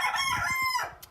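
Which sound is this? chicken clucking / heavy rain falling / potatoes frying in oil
chicken clucking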